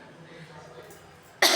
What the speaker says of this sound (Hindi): खांसी ज़्यादा आ रही है